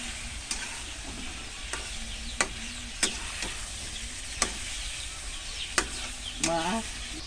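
Chicken pieces fry in a pan with a constant sizzle, broken by repeated sharp scrapes and knocks of a spatula stirring and turning them, and a faint bird chirp near the end.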